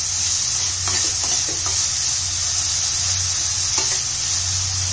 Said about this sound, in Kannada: ಈರುಳ್ಳಿ ಬೇಗ ಬೇಗ ಫ್ರೈ ಆಗಲಿ ಅಂತ ಸ್ವಲ್ಪ ಸ್ವಲ್ಪ ಉಪ್ಪು ಹಾಕೋಣ.